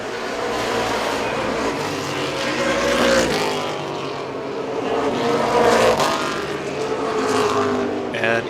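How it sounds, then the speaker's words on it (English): Street stock race cars run in the closing laps of an oval race, a dense, loud engine roar swelling and fading as the pack passes. Faint commentary may sit underneath. "Coming down now to just a pair of laps remaining as Jim Miller Sr. leads into turn number 3."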